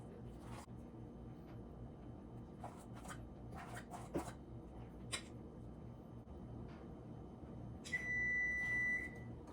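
An oven sounds a steady electronic beep near the end when preheated, after quiet kitchen handling with soft rustles and taps.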